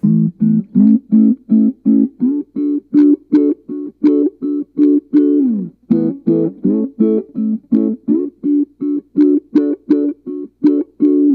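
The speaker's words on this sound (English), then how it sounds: "The band pass is slightly different in the sense that it's only going to allow the mid-range frequencies to pass through." Electric guitar run through a band-pass envelope filter on a Nano Tron pedal, a rapid series of plucked notes with a nasal, mid-focused wah quality, steady and loud, no voices.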